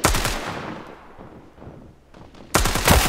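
Rapid bursts of gunfire in a first-person shooter ranked match, a loud volley at the start, quieter scattered shots in the middle, then another loud burst near the end.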